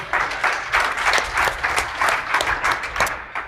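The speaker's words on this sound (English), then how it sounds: "Let's give a round of applause for the lady in pink." A conference audience applauding, a loud dense burst of clapping that pulses in waves throughout without any talking.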